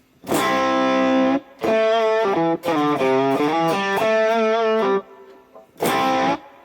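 Sustained chords from a Bullfighter D160SE digital guitar ring out in phrases with short pauses, washed in onboard reverb and phaser or chorus-like effects, loud and close.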